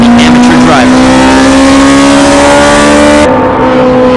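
Toyota Hachiroku race cars competing in the Tsukuba N2 race at Tsukuba circuit, engines held at a loud, steady high-rev drone up close, with a brief shift in pitch near the end as the note drops slightly.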